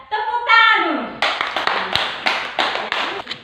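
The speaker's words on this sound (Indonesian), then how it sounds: "Ya, tepuk tangan dulu." Children clap hands in a classroom, a few bright sharp claps in a short uneven burst, preceded by a voice speaking.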